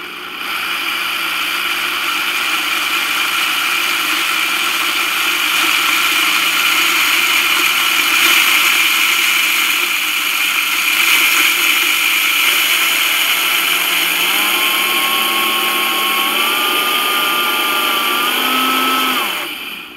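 A Vitamix blender fitted with a personal cup adapter grinds spices in a loud, steady motor whine that runs unbroken and shifts pitch upward near the end, with no talking.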